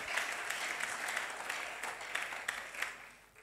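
A church congregation applauds in praise of the Lord, a steady dense wash of clapping from a crowd that holds for several seconds and tapers slightly at the end.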